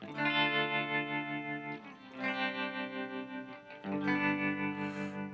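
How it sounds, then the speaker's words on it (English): Electric guitar chords ring through a Walrus Fundamental tremolo pedal in sine mode with knobs at their midpoints, each sustained chord swelling and dipping in a smooth, regular pulse, close and unaccompanied. "Just a beautiful tremolo effect."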